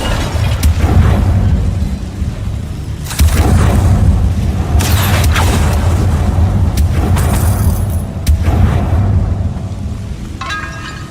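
Heavy booming blasts from Incendio fire spells cast in the video game Hogwarts Legacy, loud rumbling bursts that hit repeatedly over a constant deep roar.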